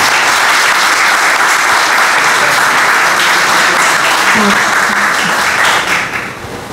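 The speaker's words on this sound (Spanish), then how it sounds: "Por favor, un fuerte aplauso para la profesora." Loud, sustained applause from a lecture audience welcoming a female professor, steady dense clapping that fades out toward the end.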